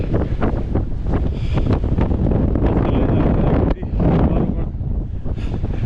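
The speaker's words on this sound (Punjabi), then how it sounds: "ਹਵਾ ਬਹੁਤ ਚੱਲਦੀ ਆ ਆਵਾਜ਼ ਪਤਾ ਨਹੀਂ ਸੁਣਦੀ ਹੋਵੇ" Strong gusting wind roars continuously against the microphone on a winter hike up Mount Lawrence Grassi near Canmore, loud and close with a brief lull partway through, and no clear talk over it.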